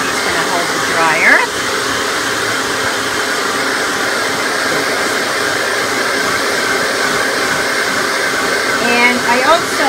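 A handheld hair dryer blows a steady, loud whooshing drone while drying a freshly bathed Yorkie's coat, running continuously close by with someone talking softly over it.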